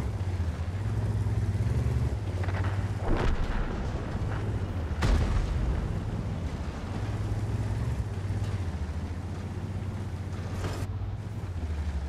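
A tank cannon fires in World of Tanks while the Conqueror heavy tank's engine drones steadily, with a few sharp, loud blasts standing out over the constant rumble.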